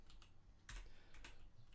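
Typing on a computer keyboard, a few quick clicks followed by two sharper keystrokes, close and quiet, with no talking.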